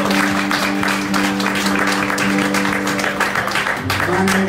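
A small bar crowd claps for guitarist Ed Stokes, the applause a dense, steady patter heard alongside sustained guitar and instrument tones ringing through.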